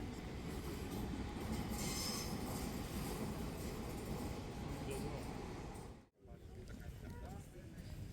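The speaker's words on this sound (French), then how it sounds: "Le train de métro très coloré qui passe." A metro train rumbles past in Monastiraki, Athens, with rolling wheel noise and squeals, steady and fairly close, then cuts out abruptly as a quieter hum resumes.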